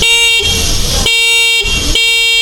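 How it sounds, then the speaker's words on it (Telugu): Three loud, sharp honks from the horn of a Mac Impact electric scooter, each about half a second long and evenly spaced, sounding close by with no talking. "ఒకసారి హార్న్ కూడా వినిపిస్తాను చూడండి మీకు"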